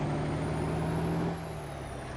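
A heavy truck engine in American Truck Simulator drones steadily with a low rumbling jake brake roar, which drops off partway through, leaving a quieter idle hum.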